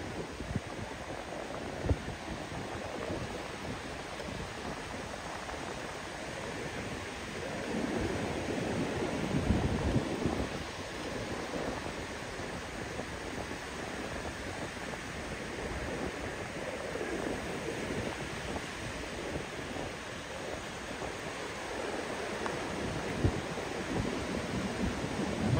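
Ocean surf rolling onto the central beach at Balneário Camboriú, Santa Catarina, Brazil, a steady wash of breaking waves with wind noise that swells slightly mid-way and holds on without talk.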